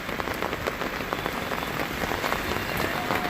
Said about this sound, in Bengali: আর কি বৃষ্টি ভোরবেলার থেকে বৃষ্টি শুরু হয়েছে